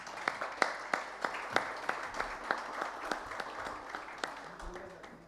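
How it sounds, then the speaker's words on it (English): An audience claps for panelists at a conference session on digital commerce; rhythmic individual claps ring out steadily in a large room, with faint voices near the end. "let me invite you all to give them a big round of applause."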